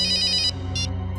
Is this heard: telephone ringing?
yes